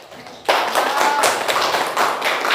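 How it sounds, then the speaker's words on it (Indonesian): A classroom of high school students applauds a group that has just finished presenting, the clapping starting abruptly and continuing as a steady, fairly close patter of many hands. "Berikan aplaus kepada kelompok yang sudah tampil."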